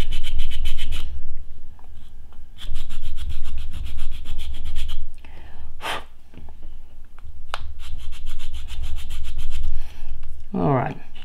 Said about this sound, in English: I've just got a old sanding stick that I use for my modelling